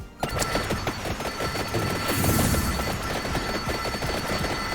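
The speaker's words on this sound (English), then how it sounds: "listen to those beautiful explosions" A dense, continuous barrage of small crackling explosions and rapid impacts from the video game Vampire Survivors, loud and busy with a deeper swell partway through.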